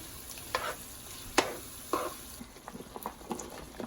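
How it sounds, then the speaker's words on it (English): Turkey gizzard and sausage stew is stirred in a pot, with sharp, scattered scrapes and clinks over a soft, faint sizzle, close by and without any voices. "Now pour in your cut turkey gizzard in your stew. Stir it up properly."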